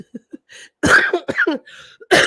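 A few harsh coughs in quick succession, close and fairly loud, with brief quiet gaps and a throat-clearing rasp between bursts.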